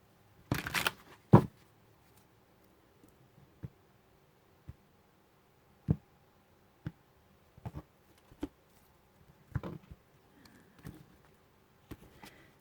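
Tarot cards shuffled by hand at a reading, a couple of brisk riffling bursts at the start followed by sparse, quiet single flicks and taps spread through near silence.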